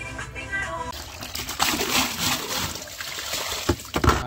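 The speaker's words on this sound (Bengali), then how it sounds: "মাঠে এসেছিলাম জল নিতে," Water splashes and trickles from an outdoor supply tap in a field as containers are filled, with sloshing and clattering bursts throughout.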